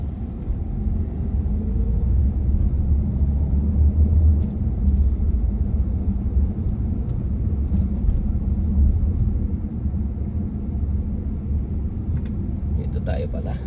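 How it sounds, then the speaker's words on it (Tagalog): A continuous low rumble of busy road traffic on a city street in Taguig heads toward Alabang, cars passing steadily, with faint talk now and then. "Kasi busy na rin yung mga sasakyan din eh."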